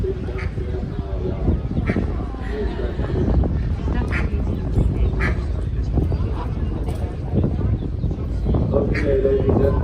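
A mother duck quacks a few times on a canal in Ghent during a boat ride, the calls mid-distance and partly masked by a tour guide talking over them.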